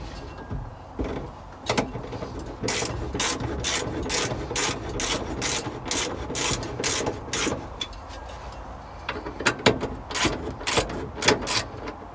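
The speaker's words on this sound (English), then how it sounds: "Let's get this tightened up here." A ratchet wrench tightens bolts on a 1976 Ford highboy truck during cab and body assembly, giving fast runs of sharp, close metallic clicks in repeated bursts with short pauses between strokes.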